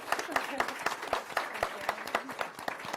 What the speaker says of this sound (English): Let's get another round of applause for us.